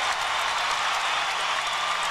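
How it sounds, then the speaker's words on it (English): Standing ovation for a pairs figure skating team at the 2002 Salt Lake City Winter Olympics pairs free skate: dense, sustained arena applause and crowd roar, steady and loud throughout, with no one talking. "the standing ovation"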